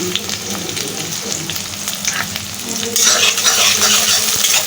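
Green chilies frying in hot oil in a wok, with a steady sizzle and stirring scrapes that swell into a louder, brighter hiss partway through, close up and with no talking.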